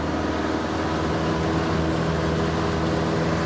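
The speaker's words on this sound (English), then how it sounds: "You might be able to hear a little bit of a sputter. It's missing from time to time." A Ford Model A climbs a hill in second gear with an ignition fault, its engine a loud, continuous droning hum heard from inside the car; any occasional misfires are hard to pick out.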